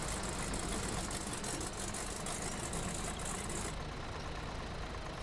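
An old tractor idles steadily in the Tractor Touchan video game, a continuous mid-toned engine drone heard alone, its upper hiss cutting off near the end.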